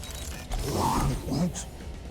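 A door creaks open in the game Guardians of the Galaxy, a short mechanical groan and rattle, close and moderately loud.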